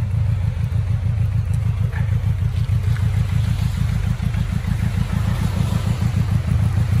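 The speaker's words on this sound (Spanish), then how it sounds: "Ya veis que se escucha súper bien la moto. Sonido muy limpio. Un par de acelerones más" Yamaha XJR 1300 cafe racer motorcycle engine idling and revving close by, a loud steady low rumble with pulsing throttle blips throughout, no one speaking.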